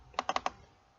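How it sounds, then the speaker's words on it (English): Four quick, crisp keystrokes on a computer keyboard, tapped in a short burst close by, then quiet with no talking. "I'm just typing it for the sake of illustration."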